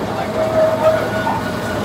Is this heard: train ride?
yes